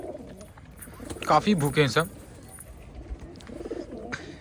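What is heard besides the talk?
pigeons cooing at feeding time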